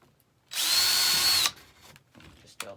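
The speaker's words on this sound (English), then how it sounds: "Just drill a quick hole." A power drill whines at high speed for about a second, close and loud, drilling a hole in the bottom of a sign, then stops, followed by faint handling clicks.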